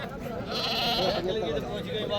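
Goats at a livestock market in Dera Ghazi Khan bleat close by, amid crowd noise and people talking.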